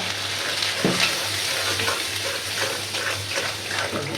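Garlic, salt, turmeric and a ginger-garlic-cumin paste sautéing in a pan for taro greens with prawns: a loud, dense sizzle broken by irregular stirring scrapes, with a faint watery hiss and no speech.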